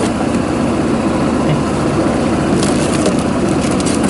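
A Kymco GP125 scooter idles close by at a motorcycle shop with its seat raised, a steady, even engine hum with a light rattle, running alone without talk.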